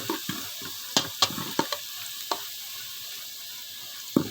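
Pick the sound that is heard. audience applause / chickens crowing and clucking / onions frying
onions frying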